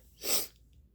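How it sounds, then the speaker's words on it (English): A single sharp sneeze bursts out, close and loud, then fades into quiet room noise. "excuse me, gonna sneeze"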